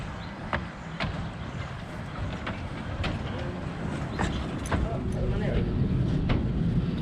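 A train runs on its rails with a continuous low rumble and regular clicking over the track joints, heard from on board at a steady moderate level.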